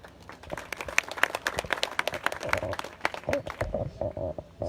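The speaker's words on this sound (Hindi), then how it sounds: "जोरदार तालियों से" Audience clapping at a Khadi and Village Industries Commission electric pottery wheel distribution event, a burst of uneven, close hand claps of moderate strength that thins toward the end.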